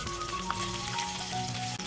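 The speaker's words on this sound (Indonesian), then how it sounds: "Ini kita goreng secara bersamaan ya." Spices and aromatics for sambal fry together in hot oil, a steady close crackling sizzle with no talk during it.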